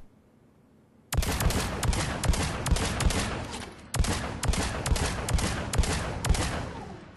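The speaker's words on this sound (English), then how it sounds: "I am slowing down my rate of fire a bit just to try to keep shots on target." Phalanx pistol in Mass Effect 3 fires at long-range targets in steady, closely spaced sharp cracks, a quick volley after a brief quiet start, a short pause, then another evenly paced string of loud shots.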